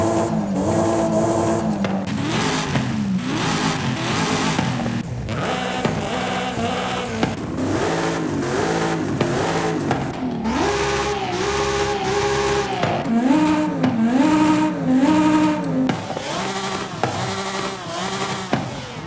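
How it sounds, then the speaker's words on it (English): Engine of a widebody Toyota Supra in Forza Horizon 5, revved repeatedly while engine swaps are cycled, giving a string of rising and falling roars with brief pauses between bursts. "Let's come to the back and rev it up as we scroll through them."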